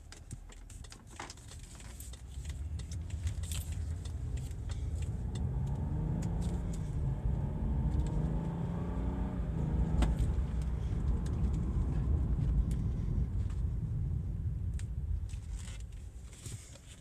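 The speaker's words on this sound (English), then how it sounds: "Hit a turbo spooling a little bit." A BMW F10 engine runs steadily up close, its droning rumble swelling as the turbo spools up with a rising whine, then easing back, with light clicks and rattles over the continuous hum and no talk.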